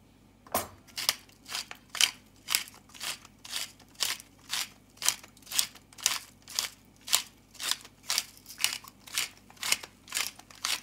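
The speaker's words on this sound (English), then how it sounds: "grind some fresh black pepper into here" Fresh black pepper ground into a vegetable casserole sauce of potatoes, broccoli and cauliflower: a peppermill's crunchy grinding twists repeat in a steady rhythm of about sixteen strokes, close and clear without talk.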